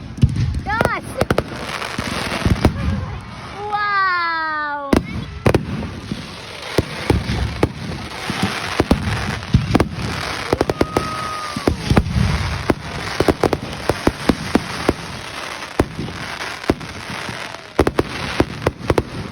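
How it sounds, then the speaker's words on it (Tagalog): A long fireworks display bursts overhead with repeated sharp bangs and crackling pops, some whistling rockets rising early on, all under chatter and voices from a watching crowd. "Tumagal nga ng halos 15 minutes ang fireworks display kaya sulit na sulit ang pagpunta at paghihintay namin"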